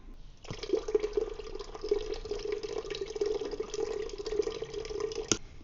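Watermelon juice streams steadily from the tap of a watermelon tank, a continuous close liquid gush lasting several seconds with a soft knock at its end, no voices.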